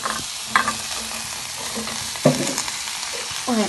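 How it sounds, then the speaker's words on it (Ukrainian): Pumpkin is tipped into a hot pot and stirred for pumpkin cream soup, close scraping and knocking of the spoon against the pot over a steady sizzle, with distinct stir strokes near the start, middle and end. "А зараз вже можна сюди додавати гарбуз. Зараз його попробую всипати."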